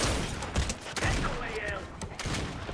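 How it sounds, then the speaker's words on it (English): A tactical DMR rifle fires in a battle-royale video game with the pickaxe in play: several sharp gunshot bursts and scattered impacts over dense game noise, with a voice talking underneath. "it has to be this tactical DMR that I shoot people with"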